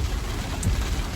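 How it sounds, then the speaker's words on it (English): Heavy rain pours down steadily in Hawaii, a dense, continuous hiss of water with a low rumbling undertone, close and fairly loud, with no voices. "Guys, it's raining. It's so pouring right now."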